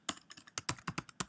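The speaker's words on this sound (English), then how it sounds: "need to start typing correctly." Close, rapid keystrokes on a computer keyboard as a script is entered, with irregular bursts of sharp clicks and brief pauses and no voices.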